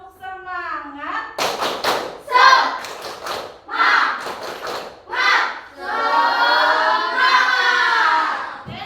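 Students in a classroom repeat a rhythmic clap-and-chant routine, clusters of crisp hand claps trading off with loud unison chanting, finishing on a drawn-out group cheer.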